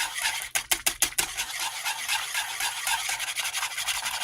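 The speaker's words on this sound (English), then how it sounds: "we're going to stir this together until it gets thicker" A spoon scrapes and stirs a Worcestershire sauce mixture in a pan, opening with a quick run of sharp scraping strokes, then settling into a softer, continuous rubbing swirl, close and fairly loud with no talking.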